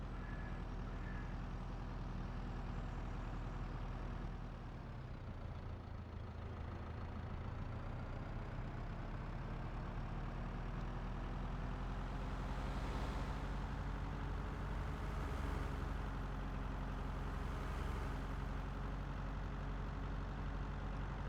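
Heavy vehicle engine in Farming Simulator 22, driving slowly at about 12 km/h, a steady low drone with a constant hum and faint higher whines that rise and fall, no talk.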